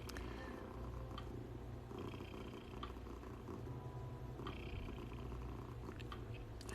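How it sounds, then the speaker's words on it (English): A fluffy orange cat purrs steadily and continuously while sitting on a lap, a soft, close, low rumble with a few faint small rustles on top, with no voices. "let you guys listen to him purr for as long as he wants to sit on my lap"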